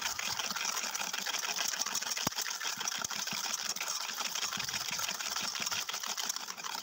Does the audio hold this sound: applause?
no